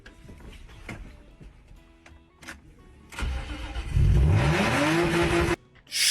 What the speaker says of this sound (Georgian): როგორ გავათფოთ ცივი ძრავი სწრაფად და ერთჯერადად